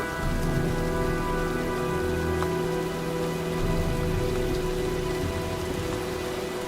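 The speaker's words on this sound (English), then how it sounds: "Well, looks like a storm's coming." Steady, dense rainfall from a storm in the video game Heavy Rain, a constant loud hiss of drops on surfaces with a low hum beneath, continuous and unbroken throughout.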